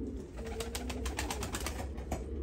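Van pigeons, a mated pair, coo softly and repeatedly at close range over a steady low background hum.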